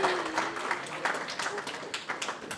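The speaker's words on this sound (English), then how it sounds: "Please give a round of applause to everybody who's involved" Audience applause at an AI youth hackathon, a steady patter of many hands clapping together with some crowd noise mixed in, continuous and moderately loud throughout.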